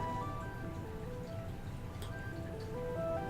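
Gentle Minecraft background music plays at low volume, with soft, sparse piano-like notes stepping up and down over a quiet bed of ambience and no voices.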